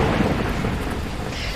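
A thunderstorm in the video game Beacon Pines: steady heavy rain with a low, rolling rumble of thunder running underneath throughout. No one speaks.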